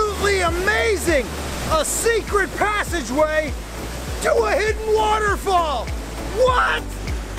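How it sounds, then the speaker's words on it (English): A steady rushing roar of a hidden waterfall in Queenstown, New Zealand, reached through a tunnel, runs continuously beneath loud, excited talk that dominates the foreground. "A secret passageway to a hidden waterfall!"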